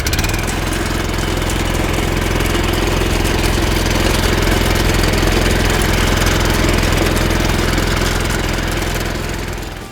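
Engine of an Asia walk-behind cultivator with a rotary tiller, running steadily after the throttle is raised: a loud, close, continuous mechanical chugging drone that holds evenly and then eases slightly at the end, with no voices.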